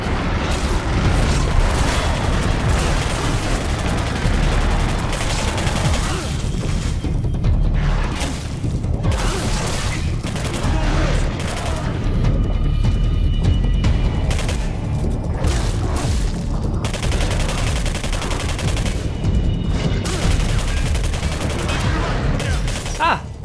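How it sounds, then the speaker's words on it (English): Heavy sustained gunfire fills the whole stretch as soldiers battle Zeks in the video game Singularity, with dense rapid bursts, booms and explosions layered loud and continuous throughout. "And now I hear a big gunfight. Sounds like soldiers fighting Zeks."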